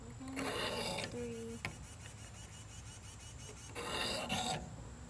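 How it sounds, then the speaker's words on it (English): A pocket knife is drawn across a sharpener in two separate bursts of dry rasping strokes, close by, with a quiet pause between them. "So that is how you sharpen a knife."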